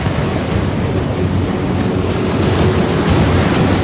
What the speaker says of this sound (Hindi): शोर करती हुई लहरें आ जा रही थी